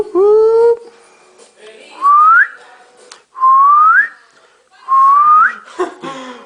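A person whistles four loud, close notes, each a sustained tone rising at the end, separated by short pauses, during a casual drinking game among friends.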